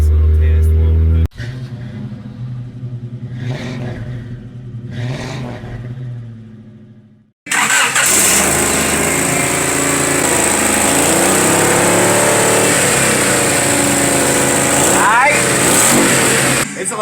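A Honda car engine revving hard during an exhaust loudness test: a roaring, loud drone that rises and holds close by, with people talking over the engine noise beforehand.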